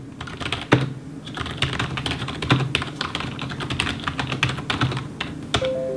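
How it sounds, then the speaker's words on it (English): Someone types on a Razer Cynosa V2 membrane gaming keyboard, producing soft, irregular clicks and taps close to the microphone, with a few sharper keystrokes standing out in a quiet room. "Very soft clicks. There is not much resist like on the mechanical keyboards."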